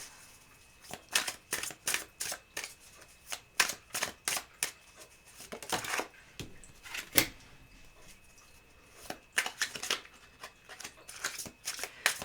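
Tarot cards being shuffled by hand: repeated crisp riffles and slaps come in quick bursts, close and clear, with short pauses between.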